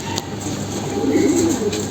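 Soft, low cooing from a red jira pigeon, close by over a faint steady background hiss, brief and fairly quiet.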